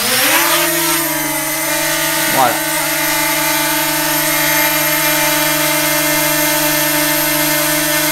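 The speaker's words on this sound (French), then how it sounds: "vous pouvez parfaitement décoller à l'intérieur avec ce drone" A DJI Mini 2 SE drone takes off indoors with a steady, close, high-pitched propeller whine that holds throughout, while someone speaks briefly over it.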